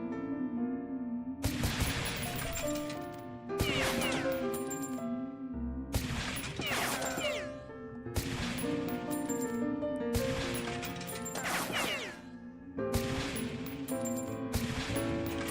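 Gunfire in the video game Beyond Citadel, with sharp shots recurring every couple of seconds over a steady tonal game soundtrack, each shot loud and followed by a ringing tail.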